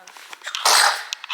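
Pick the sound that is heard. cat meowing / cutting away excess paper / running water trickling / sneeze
sneeze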